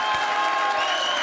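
TV studio audience applauding during the French talk show Ce Soir avec Arthur, a brief, loud, even burst of crowd clapping with some cheering.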